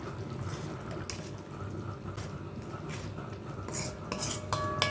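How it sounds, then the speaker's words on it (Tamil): Quail gravy with lemon and coriander is stirred in a pot, with a metal spoon scraping and clinking against the vessel in quick, irregular strokes, faint and close with no talking. "இப்போ இது எல்லாத்தையும் நல்லா மிக்ஸ் கொடுத்து கிண்டி விட்டுக்கலாம்"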